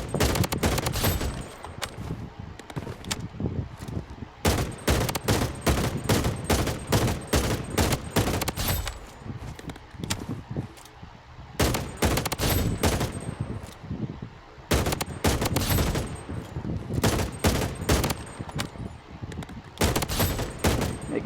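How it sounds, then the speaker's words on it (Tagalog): AR-97 rifle in the Blood Strike mobile shooter firing in long sustained bursts, rapid cracking automatic fire with brief pauses between strings, loud and close with no talking. "Gayan ang kanyang putok."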